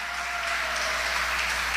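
A church congregation claps steadily and evenly, a brief burst of applause filling the whole moment without pause.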